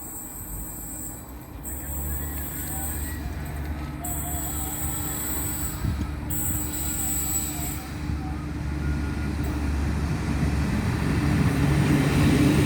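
A train rumbles steadily along the rails on a rainy day with continuous low wheel noise and faint high metallic squeals, growing slightly louder toward the end.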